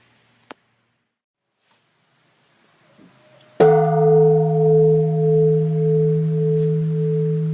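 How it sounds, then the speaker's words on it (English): Old bells once used in a worship setting: after a few faint taps, one loud bell strike rings out and sustains, its rich tone pulsing slowly as it decays, with no talking. "These are old bells from a place where these bells would have been used in a type of worship setting."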